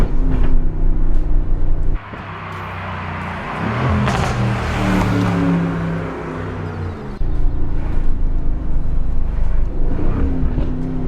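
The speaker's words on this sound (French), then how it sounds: "Mais voilà, tu vois, ça pétarade." An Aston Martin Vantage V8 engine runs close by with a deep rumbling idle, then swells into a louder, rougher burst of revving and exhaust crackle before settling back to a steady burble.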